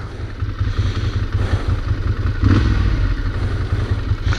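Ducati motorcycle ridden through a New York City neighborhood, a steady engine drone with low rumble and wind noise, swelling slightly midway, close and continuous with no talk.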